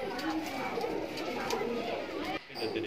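Kaldume pigeons in a loft coo softly through a steady low murmur of birds, with a brief dip in the sound near the end.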